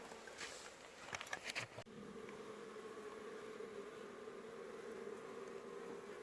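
Bees in Yemen buzz in a steady, faint drone, with a few brief clicks near the start, continuing quietly without any voices.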